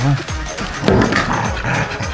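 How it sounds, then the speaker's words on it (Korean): A Labrador Retriever barks in a short burst of rough, fairly close yaps lasting about two seconds, with faint voices mixed in. "그래서 자비는 달을 겁주려 짖기 시작했답니다"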